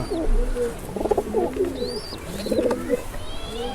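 Pigeons kept in a loft coo repeatedly in overlapping, throaty bursts, with several birds close by and occasional higher chirps over a steady background murmur.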